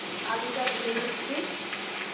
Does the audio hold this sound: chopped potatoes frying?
yes